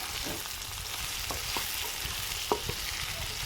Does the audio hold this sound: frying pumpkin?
yes